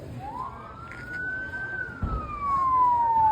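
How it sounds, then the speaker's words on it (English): A police siren wails up and then slowly falls, a single sweeping tone at moderate distance, heard outdoors near Fort Bowie in Arizona over faint background rumble. "Oh, police sirens, authentic to the times."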